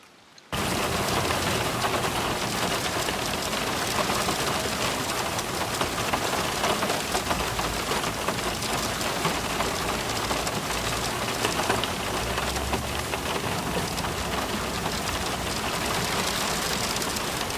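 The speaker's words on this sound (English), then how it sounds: "the rain has died down a little bit" Steady, dense rain drumming on a car roof, a continuous loud hiss with a faint low rumble underneath, no voices.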